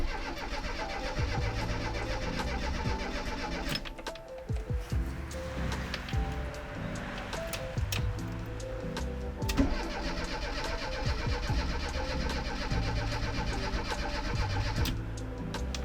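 A campervan's petrol engine cranks steadily, the starter grinding rhythmically for several seconds, briefly pausing, then cranking again without catching, loud and close.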